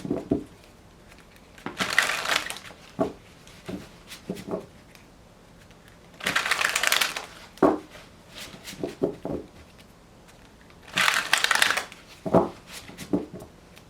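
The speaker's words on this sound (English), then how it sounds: "Three shuffles." Tarot cards shuffled by hand in three separate riffles, each a dense crackling burst about a second long, with scattered card taps and handling clicks in between.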